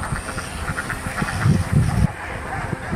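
Several ducks quack in a loose, overlapping chorus, loudest in the middle, over a steady outdoor background hum in Cochin, India.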